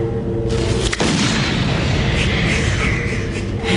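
Gunfire in a scene from the TV series Good vs Evil: a loud, sharp, close shot opens the clip and a booming, reverberant blast follows at about one second, then a dense, noisy rumble continues.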